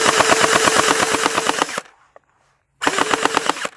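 A SCAR-style toy blaster firing in rapid full-auto bursts at bottles outdoors: a loud, fast mechanical rattle of shots, a brief pause, then another burst, with no talking.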